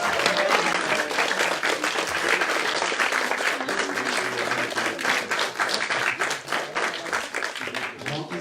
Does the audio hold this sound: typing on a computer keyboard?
no